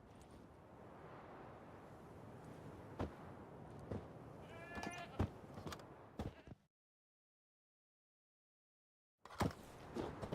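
A goat tied to a stake in The Witcher 3 bleats in short wavering calls over soft outdoor ambience and scattered knocks, then the sound cuts to silence before resuming briefly.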